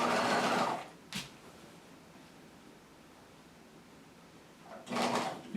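A sewing machine stitching a jacket's upper collar and facings, two short whirring runs at the start and end separated by a quiet pause, close and fairly soft.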